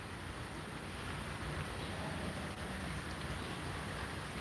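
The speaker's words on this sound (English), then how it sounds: "Just that light rain." Light rain falls steadily outdoors near a wooden jungle gym, a soft even hiss of drops with no breaks or voices, moderately quiet and constant throughout.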